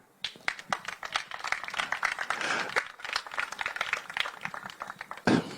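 Applause at a tribute evening in Guadeloupe honoring a late filmmaker, as a guest is welcomed. The clapping is fairly close and uneven, with sharp individual claps over a few seconds and a brief burst near the end.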